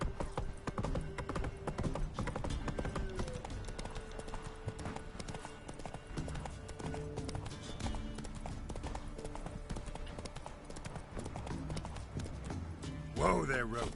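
Hooves of Roach, the horse in The Witcher 3, clip-clop in a steady trotting rhythm throughout, fairly close and continuous under game music, with a louder burst near the end.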